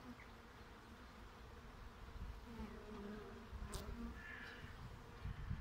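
Honeybees buzzing in an opened hive during the first inspection after winter, a close, continuous drone with shifting tones as individual bees fly near, plus a few light clicks of handling.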